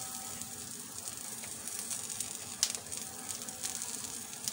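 Onions frying on a hot tawa for gola kabab give off a steady, moderately faint sizzle with a few brief crackling pops, heard alone without talk.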